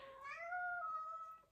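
A talkative pet cat lets out one clear, rising-then-falling meow, fairly quiet and close in a calm indoor room.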